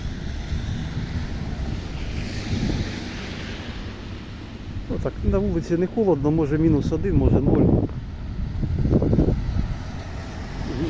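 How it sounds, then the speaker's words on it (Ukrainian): Steady light wind rushes and buffets the microphone throughout, under someone speaking outdoors on a street in Oleksandriia during snowfall. "Вітер, правда, такий не сильний, але є."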